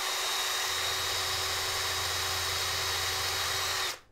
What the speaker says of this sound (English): I'm gonna spin up the drill here.